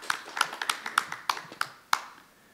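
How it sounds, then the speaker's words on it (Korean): A handful of scattered, separate hand claps ring out sharply at a robotics industry conference as a panelist is welcomed, fairly faint and irregular, fading to quiet after a final clap. "큰 박수로 환영해 주십시오"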